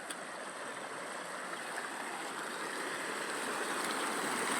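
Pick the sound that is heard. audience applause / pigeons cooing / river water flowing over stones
river water flowing over stones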